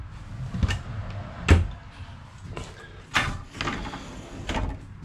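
A pantry door in a 2020 Forest River FR3 30DS Class A motor home gives several close, hollow knocks and thumps as it opens and shuts, with soft rattling between the hits.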